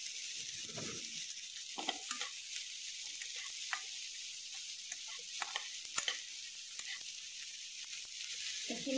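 Cumin and coriander spices frying in a pan, a soft steady sizzle with scattered crackles and pops throughout, heard alone without talk.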